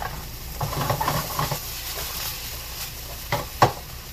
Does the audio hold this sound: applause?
no